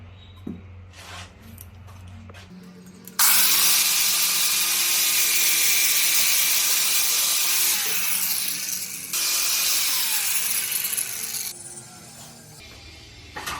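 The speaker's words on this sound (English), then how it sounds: "I'm just going to use a really worn down flap disc" A worn flap disc on an angle grinder strips paint off a metal rear axle of a 1979–04 Mustang, starting after a few clicks with a loud, sustained whine and grinding rasp that briefly dips partway through.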